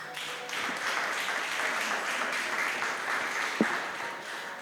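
An audience claps in dense, continuous applause that stays even throughout, heard from within the room at moderate level.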